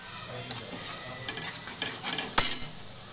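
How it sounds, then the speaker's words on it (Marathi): Gram flour being roasted and stirred in a pan over low heat with spices for kachori filling: a soft, continuous scrape-and-sizzle of stirring, ending in a sharper clatter of the spoon against the pan, close and with no talk. "त्याला पण छान खरपूस भाजून घ्यायचं त्याचा सुगंध येत नाही तोपर्यंत त्याला बारीक गॅसवर भाजायचं"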